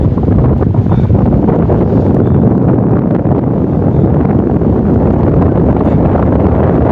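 Strong wind buffets the microphone on a hilltop at Gudibande Fort, a loud, constant roaring rumble with no break and no talk.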